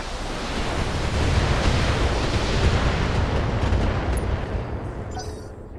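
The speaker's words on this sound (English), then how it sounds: "Firing all weapons." All weapons on a BattleTech-style mech fire in a video game, producing a dense roaring barrage of blasts and rushing noise that holds steady, then trails off at the end. No one speaks.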